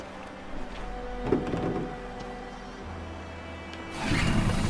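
A boat's engine sputters and catches in the game Detroit: Become Human, with a low mechanical rumble, a brief rise, then a louder steady idle toward the end.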